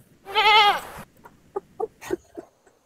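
A goat lets out one loud, wavering bleat nearby, followed by a few soft, short sounds and faint rustling, with no one speaking.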